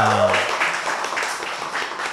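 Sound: applause for the Kompos team

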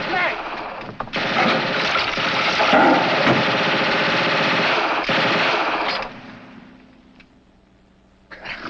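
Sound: machine gun firing in 1950 comedy film

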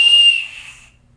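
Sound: whistle blown into the face

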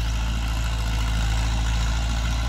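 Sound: Ford 6610 4WD tractor engine running

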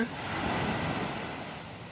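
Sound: sea waves on the beach in the evening

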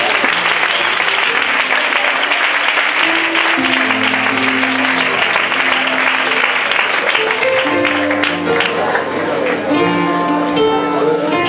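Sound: congregation applause in church

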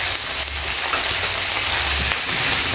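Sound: thyme added to sizzling pan, sweet and sour chicken

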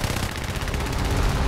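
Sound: aircraft machine gun fire in video game War Thunder

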